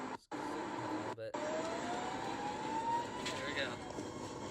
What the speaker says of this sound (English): And here is our takeoff.